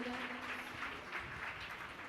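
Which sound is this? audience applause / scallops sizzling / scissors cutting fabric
audience applause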